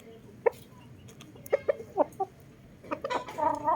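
A Gilmore hatch gamefowl rooster gives several short, separate clucks at a close distance. The calls are spaced unevenly, and a busier run of clucking comes toward the end.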